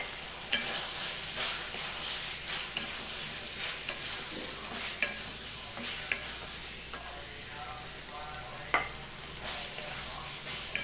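Potato fry with chicken masala sautéing in a pan, with a steady sizzle throughout and the repeated scrape and clack of a spoon stirring against the pan, close and moderately loud.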